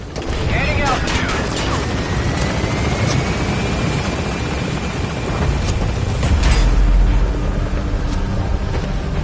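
Helicopter taking off in Metal Gear Solid V, a loud rotor thrum and turbine whine building steadily as it climbs, with radio voices talking over it.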